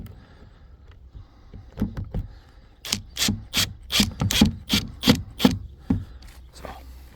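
Plastic mirror cover and electronics on a Ford Focus MK4 door mirror being pushed into place, a close run of sharp clicks and rubbing scrapes, quick and fairly regular, with no talking.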